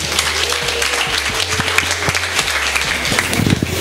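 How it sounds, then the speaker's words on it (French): Audience applause in a comedy club as a gospel comedian is introduced, a dense, steady wash of clapping filling the whole stretch at even loudness, with no talk over it. "Est-ce qu'on peut applaudir pour lui?"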